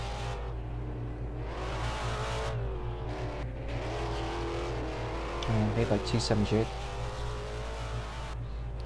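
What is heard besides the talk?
race car driving on track, 782 car based on GTO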